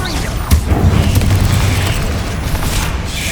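Confringo and Incendio spells burst in Hogwarts Legacy, a loud, rumbling boom that swells and lingers as a dense roar of fiery blasts.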